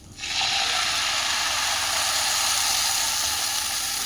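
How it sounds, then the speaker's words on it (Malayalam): A splash of water hits a pan of chopped long beans for Kerala-style thoran, setting off a loud, steady hiss of sizzling and steam that holds close and unbroken for about four seconds. "കുറച്ച് വെള്ളം കൂടെ ആഡ് ചെയ്ത് കൊടുക്കാം"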